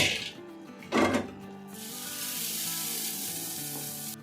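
Beef nihari simmering in a pot, giving a loud, steady sizzle and frying hiss that swells after a brief stirring clatter.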